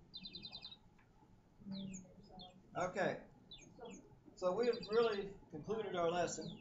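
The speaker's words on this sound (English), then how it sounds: "I'd rather hear the bird singing than hear a lot of other things." A bird chirps indoors in a quick, bright burst near the start, then is mostly lost as people talk in a room during a class session.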